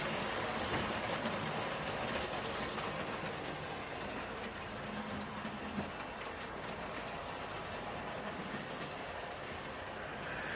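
A Hornby Peckett B2 0-6-0 model locomotive runs continuously on its track, giving a steady, dense mechanical whir and rattle with no distinct pauses or voices.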